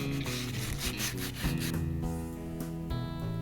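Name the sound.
rubbing down old conservatory beading before painting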